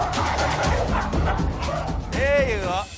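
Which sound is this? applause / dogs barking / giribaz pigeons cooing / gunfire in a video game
dogs barking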